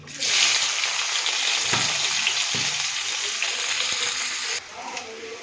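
Bay leaf, whole cumin and onion frying in hot oil for a fish curry with drumsticks, a loud, steady close sizzle with a few stirring knocks, no talk.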